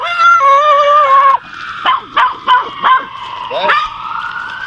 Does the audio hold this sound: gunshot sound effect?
no